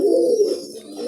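Domestic pigeons kept for breeding give a low, close, continuous cooing, murmuring along steadily and heard alone.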